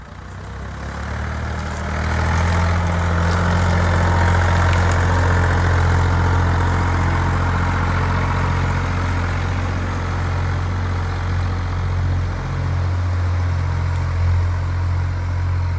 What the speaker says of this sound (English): Oh my goodness, Crusoe, what is it? Big tractor.